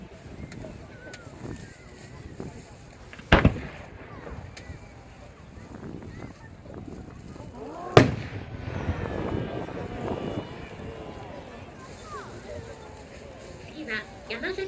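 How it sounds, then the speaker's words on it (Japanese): Kato Enka silver-core three-colour pastel blinking firework shells at a seaside festival in Miyazaki go off as two sharp, distant bangs several seconds apart, over steady wind noise and an announcer's voice. "次に打ち上げるのは加藤演歌の上り銀龍付き銀芯3色パステル点滅です。"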